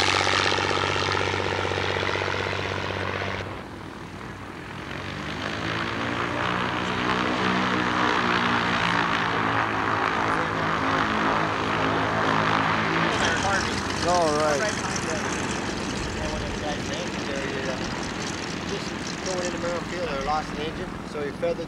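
A propeller airplane engine drones steadily nearby at the 1989 Concrete, Washington fly-in, its pitch shifting as it passes, with a change in tone partway through.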